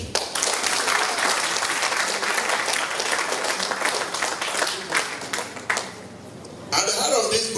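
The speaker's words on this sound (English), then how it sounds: "clap your hand." A crowd at a book launch in Ghana claps loudly and steadily. The applause thins briefly, then resumes, with voices audible near the end.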